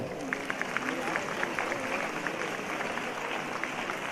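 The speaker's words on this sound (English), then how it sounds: "We warmly welcome him with a big round of applause." A large audience applauds at a religious discourse event in Mysore as a government guest is called onto the stage, with steady clapping over a murmur of voices.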